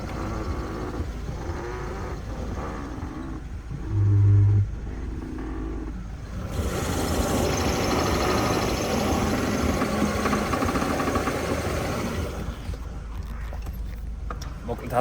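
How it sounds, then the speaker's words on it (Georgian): A Mercedes 190E (W124-era front suspension) with a worn front left ball joint, engine running steadily, giving a continuous mechanical rumble and knocking noise that rises louder midway, with a brief low thump near the start. "აი ხა შარაუის ხმას მოგასმენთ"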